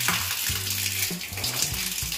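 Water runs from the taps of a newly filled household plumbing pipeline, a continuous hiss and splash that stays steady throughout, with a stepping tonal melody underneath.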